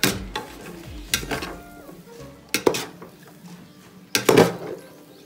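Bihon noodles being mixed with seasoning in a pan: close metallic scrapes and clanks of a utensil against the pan in irregular bursts, with a faint low sizzle between strokes.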